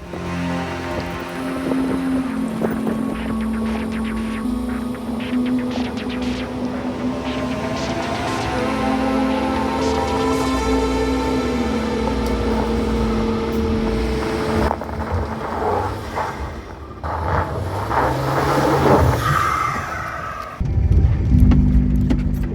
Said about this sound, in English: we are already doing a little bit of off-roading